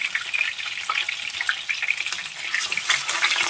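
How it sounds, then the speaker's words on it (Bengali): Katla fish pieces frying in refined oil in a pan, a close, steady sizzle with scattered crackles and pops throughout, no voices over it. "আমি মাছটা একটু রিফাইন্ড অয়েলে ভাজছি"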